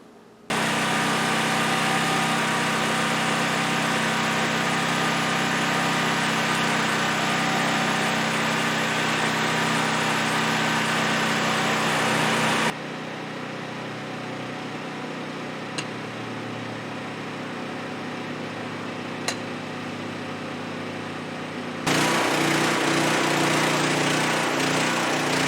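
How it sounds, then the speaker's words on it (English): A portable generator runs steadily close by, a loud continuous engine drone that drops to a quieter hum midway and then returns at full strength near the end. "So what I like to do with the generator is just turn the gas off there and just let itself run empty."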